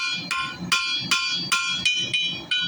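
A blacksmith's hammer rings on hot steel over an anvil while forging a dragonfly, with about seven sharp, bright strikes in a steady, fairly quick rhythm. The blows are close and loud, with brief metallic decay between them.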